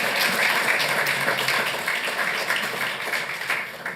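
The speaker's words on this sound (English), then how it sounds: "Let's give them all a big round of applause." Audience at a Santa Ana city council meeting breaks into sustained applause, a dense wash of clapping that holds for several seconds and tapers slightly toward the end.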